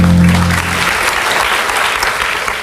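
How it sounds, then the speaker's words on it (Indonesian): A church congregation applauds the praise and worship team, a loud, dense burst of clapping that fills the room and carries on steadily with no talking over it. "Boleh tepuk tangannya di extend buat tim praise and worship kita."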